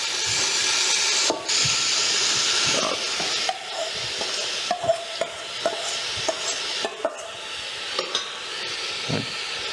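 Vegetables and fish sauté in a pot with a constant hissing sizzle, broken by regular close stirring scrapes and taps against the pot.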